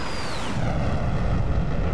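An F-14 Tomcat jet engine on full afterburner in the DCS combat flight simulator, a loud, continuous roaring rumble with a thin descending whine at the start.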